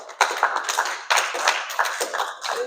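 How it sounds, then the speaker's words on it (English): Audience clapping for Mr. Frost, a short burst of dense, lively applause from a modest group in a room, close and uneven with sharp individual claps. "We're gonna give him a round of applause."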